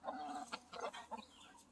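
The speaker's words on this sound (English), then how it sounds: "So we have 15 chickens total. 14 hens, 1 rooster." Chickens from a backyard flock of fourteen hens and one rooster cluck in a close, busy series of short calls, several overlapping bursts over a couple of seconds.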